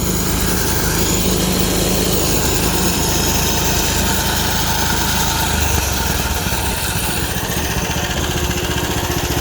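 A Thai vehicle being repaired after a fault runs its engine at a steady idle, a loud, continuous low rumble close by that holds through the whole stretch with no voices.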